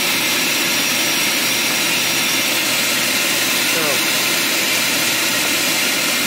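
A garage wall-mounted vacuum blows air hard, a loud, constant roaring rush that stays even from start to finish.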